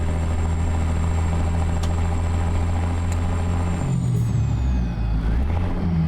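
A heavy 14.8-liter Caterpillar 3406B diesel in a truck in American Truck Simulator idles steadily with a deep low rumble, joined by a faint high whine and a short air-brake hiss before the idle wavers near the end.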